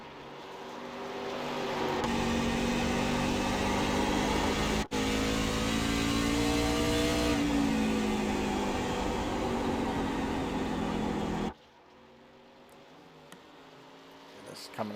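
A race car engine drones during a hot lap in a virtual racing game, a steady, rising engine note for most of the run that cuts off abruptly near the end, giving way to quiet background.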